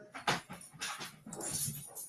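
A puppy whimpers in short, soft, high bursts, several faint whines spread across a couple of seconds in a quiet indoor room.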